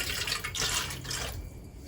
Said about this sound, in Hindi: अब इसमें थोड़ा सा ना हम गर्म पानी डालेंगे, क्योंकि सर्दियों में गर्म पानी से निकलेगा मक्खन